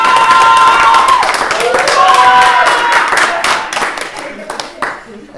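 Wedding guests clapping and cheering at a ceremony right after the vows, loud close applause mixed with excited voices, fading in the final seconds.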